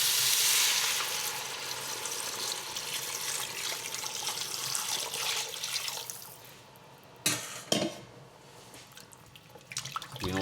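About a litre of water poured into a cooking pot for carrot and coriander soup: a steady, hissing splash that runs for several seconds, fades, then gives way to a couple of short knocks and clatters.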